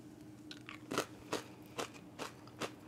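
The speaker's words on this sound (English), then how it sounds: "I'm gonna dip a pita chip." Five crisp, separate crunches of a pita chip dipped in hummus being bitten and chewed close up, spaced about every half second in a quiet room.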